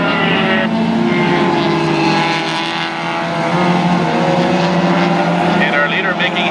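Spec Miata race cars battling at Mission Raceway in a closed-wheel race, engines droning loud and steady throughout with a commentator speaking over them.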